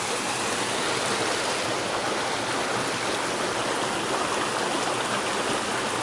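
A mountain stream runs past a campsite in Nova Friburgo, its water rushing in a steady, close, even hiss with no talk over it.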